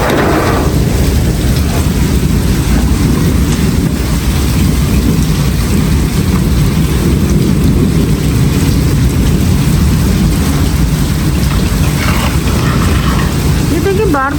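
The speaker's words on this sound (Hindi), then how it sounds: "बारिश बहुत ज़्यादा हो रही है, रुकने का तो नाम ही नहीं ले रही बारिश" Steady, loud rainfall roars throughout, a dense continuous wash of noise with no breaks.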